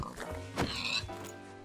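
Pig oinking in Minecraft, a few short grunting snorts close by, with a murmur of voice in the background.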